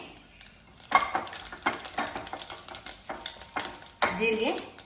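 Cumin seeds crackle and sizzle in hot oil for a mixed-lentil thovve, with close, uneven bursts of frying and scraping stirring in the pan, growing busier near the end.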